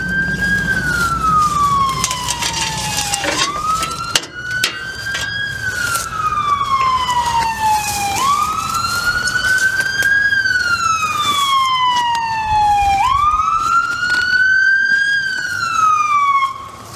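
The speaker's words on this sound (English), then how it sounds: "Fire truck." Fire truck siren wailing outdoors, loud and close, rising and falling in long repeated sweeps over a steady low engine rumble.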